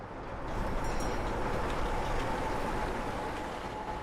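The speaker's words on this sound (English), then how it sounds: "Train ride." A train running on rails in a Garry's Mod / SFM creepypasta setting, a steady broadband rumble that swells in after half a second and holds loud and continuous, with a faint thin high squeal riding over it.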